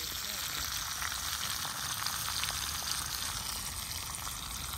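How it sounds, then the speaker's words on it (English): Jackfish frying crisp in a pan by a riverside give a soft, continuous sizzle and crackle, steady and fairly quiet throughout. "Some jackfish frying nice, bone dry, crispy"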